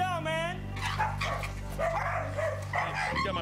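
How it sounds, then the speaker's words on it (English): Dogs bark and yip in a cramped, filthy house during a rescue, with excited barks and whimpers mixed under loud overlapping human voices close by. "trying to catch these dogs with all those little corners"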